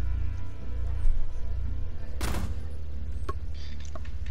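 Gunfire in the Rainbow Six Siege video game, a short burst of shots ringing out over continuous game ambience and background noise, loud and close.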